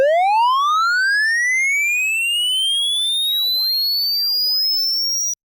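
Harsh digital artifacts from the GClip clipper plugin: loud rising whistling sweeps with aliased tones bending up and down in arcs, a steady alien-like chirping tone that stops abruptly.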